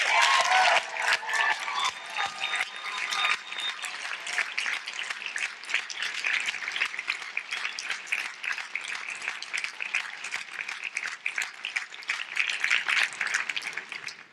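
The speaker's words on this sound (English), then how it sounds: "they deserve a huge round of applause" A commencement crowd applauds the staff, a sustained wash of many hands clapping that holds fairly even for about fourteen seconds, slightly louder at the start.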